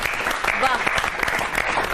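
Loud audience applause greets a performer at a Hindi-language comedy stage show, dense steady clapping filling the whole stretch with a few voices mixed in.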